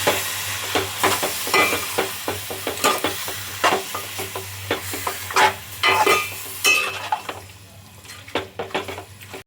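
A spoon stirring chicken curry mixture in a frying pan, with repeated scraping and clinking strokes against the metal over a low sizzle, close and fairly loud, easing off near the end.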